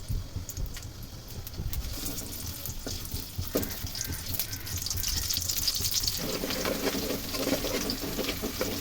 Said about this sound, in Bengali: তেলটা গরম হলে এখানে আমি খানিকটা পেঁয়াজ পরিমাণ মতন যতটুকু লাগবে অতটুকু আমি বেরেস্তা করে নেব